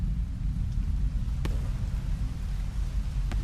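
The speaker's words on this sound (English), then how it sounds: "The rain is definitely here." Steady, heavy rain roars through a stretch of the video game Rain World, with low rumbling thunder underneath and a couple of sharp cracks standing out from the constant downpour.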